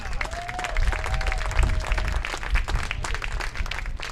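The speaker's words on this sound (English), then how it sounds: "let's give a round of applause for the Post 400 Stars." Crowd applause at an American Legion baseball World Series awards night for the Post 400 Stars, dense steady clapping with some crowd noise and a faint voice underneath throughout.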